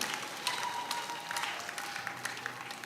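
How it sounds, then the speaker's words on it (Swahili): A crowd claps steadily for Secretary General Father Philbert Kasira at the tenth-anniversary celebration of the Mangalore Africa Mission missionaries at Kifaru parish, a dense, fairly close patter of many hands with no pause. "Please stand up, we'll give them a big clap."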